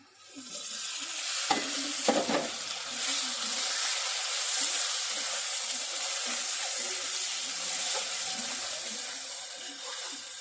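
Tomato going into a hot pan with fish, onion, turmeric and chilli powder, giving a steady broadband sizzle with a few brief stirring knocks near the start, continuous and fairly close.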